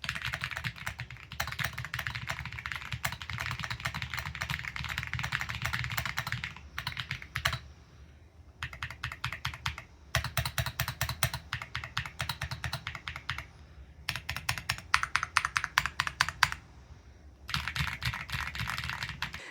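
Close, steady typing on a Keychron Q1 Ultra mechanical keyboard, fast bursts of clacky keystrokes broken by short pauses, with no voices.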